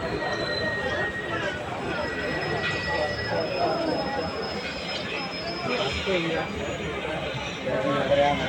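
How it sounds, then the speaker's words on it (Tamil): A passenger train on the Madurai to Tenkasi line slows to a halt at Tiruthangal station, with rumbling wheels and faint high squeals heard beneath a person talking throughout. "இப்போ ட்ரெயின் நிற்கிறதா ஸ்டாப்பு"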